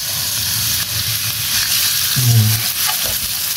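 Ingredients frying in olive oil in a pan: a loud, steady sizzle and hiss fills the clip, with a brief lower bubbling surge in the second half.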